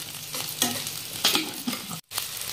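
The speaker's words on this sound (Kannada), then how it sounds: "ಉಳ್ಳಾಗಡ್ಡಿ ಹೈ ಫ್ಲೇಮ್ ಒಳಗೆ ಫ್ರೈ ಮಾಡ್ಕೊಳ್ಳೋಣ್ರಿ." Onions frying on high flame in a pan, a close steady sizzle punctuated by stirring scrapes, with a brief drop to near silence toward the end.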